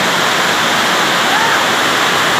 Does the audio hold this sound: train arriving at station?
no